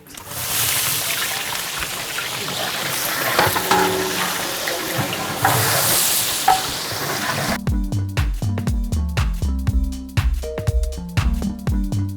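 About twelve kilos of onions sizzle in a large biryani pot as a dense, steady hiss runs for several seconds. A rhythmic, tonal musical passage then takes over.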